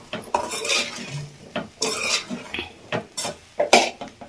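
Egg rice being stirred and mixed in a pan for a lunch box, a spoon scraping and clinking against the metal in irregular bursts, close and moderately loud with no talking.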